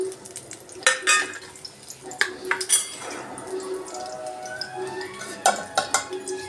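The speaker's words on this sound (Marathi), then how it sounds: "आता हे तूप छानपैकी तापायला सुरुवात होत आहे, तर त्यामध्ये बारीक चॉप केलेले लसूण टाकते मी।" Finely chopped garlic goes into hot ghee in a pan, with a quiet sizzle and frying hiss broken by sharp clinks and scrapes of a spoon stirring against the metal, close and fairly loud.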